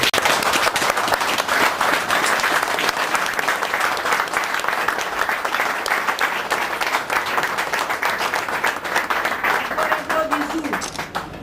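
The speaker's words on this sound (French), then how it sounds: "On applaudit pour les couples." Continuous crowd applause for newly married couples at a civil wedding ceremony, dense rapid clapping throughout with voices faintly audible underneath.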